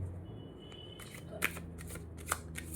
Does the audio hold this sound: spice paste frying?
no